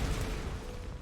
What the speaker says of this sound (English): we will use that to just blow up the fuel